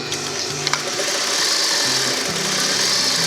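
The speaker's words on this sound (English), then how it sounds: "Sew around this second edge," A sewing machine stitches along the edge of a beginner's fabric face mask, giving a steady, continuous mechanical hum with a low, regular needle rhythm, close by and with no talking.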